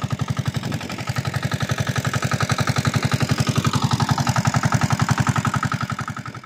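A farm machine's engine runs steadily nearby, producing fast, even thumping pulses that hold a constant chugging rhythm throughout, with no talking over it.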